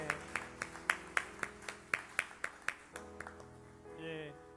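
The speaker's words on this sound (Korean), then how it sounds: "네, 우리 박수로 축복하겠습니다." At a church youth worship service, the congregation claps in blessing: evenly spaced, fairly faint claps in a steady rhythm over a low sustained musical tone, tapering off near the end.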